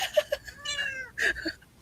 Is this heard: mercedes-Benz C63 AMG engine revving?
no